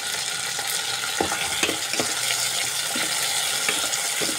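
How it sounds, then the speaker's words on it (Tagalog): Okra and green chili sautéing in a pan, a close, steady sizzle broken by scraping spatula stirs and small clacks against the pan, continuing without any voices. "Sigisa ko lang po yun guys"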